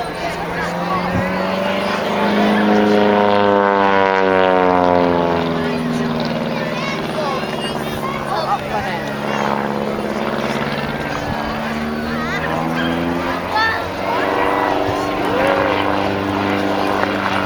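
A propeller aircraft flying a loop in the sky above Fort George near Inverness, a loud droning engine whose pitch sweeps up and down as it turns, with people talking over it.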